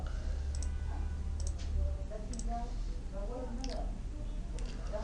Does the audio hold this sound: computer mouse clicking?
yes